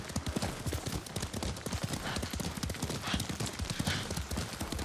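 Hooves clip-clop in a quick, steady gallop as a horse is ridden in the video game Ghost of Tsushima, close and loud with constant rhythmic thuds.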